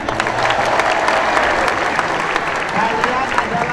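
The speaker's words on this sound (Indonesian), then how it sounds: "Tepuk tangan semuanya." An audience of vocational high school students claps together in a sustained burst of applause lasting several seconds, with dense, even hand-clapping that fills the room.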